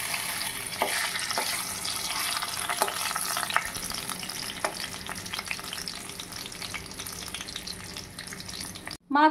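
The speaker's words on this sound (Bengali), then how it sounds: "আমরা মাছগুলো একটা একটা করে ফ্রাই করে নেব।" Pabda fish frying one by one in mustard oil in a wok, giving a steady, moderate sizzle with soft crackles throughout, close by, ending in a brief louder clatter.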